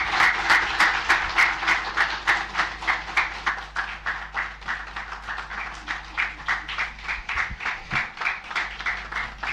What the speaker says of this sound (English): Shall we please give Her Excellency another big round of applause?